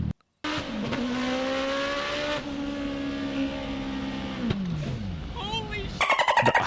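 A Smart car fitted with a Hayabusa motorcycle engine revs hard, its high engine note climbing and falling through rapid gear changes, loud and near, ending in a burst of rough rasping.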